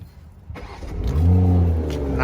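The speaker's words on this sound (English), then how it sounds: "So this is cold start." A Toyota Supra engine cranks briefly on a cold start, then fires into a loud rising roar that settles into a high, steady rumble.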